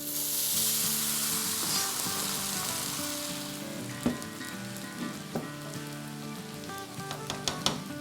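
Rice tumbling into butter with cardamom in a pot, giving a steady frying sizzle throughout with a few soft clinks and stirring scrapes near the end, close and moderately loud.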